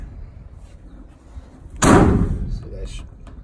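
A heavy compartment door on the utility body of a Chevrolet Silverado 4500 truck slams shut once, loud and close, with a solid thud that rings briefly after a quiet stretch.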